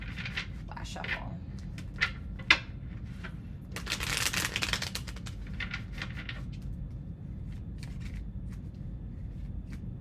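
Tarot cards are shuffled in quick, crisp riffles and slides near the microphone, with one louder burst of rapid flicking midway over a low steady hum.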